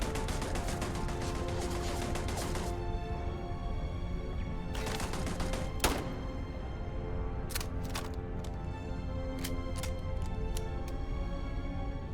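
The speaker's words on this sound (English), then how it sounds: "Not sure what's shooting at us. I think it's a turret." Turret fire in the space game Starfield: dense sustained game soundscape with a few sharp broadband shot bursts, some clustered near the end, fairly steady loudness throughout.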